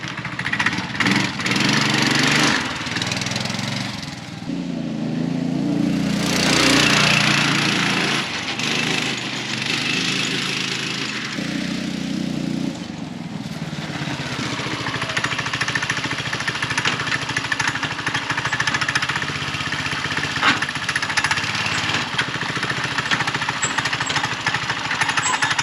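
A Manco Intruder II go-kart's small engine runs nearby, a buzzing, rattling drone that surges and dips with the throttle before settling into a steadier running note.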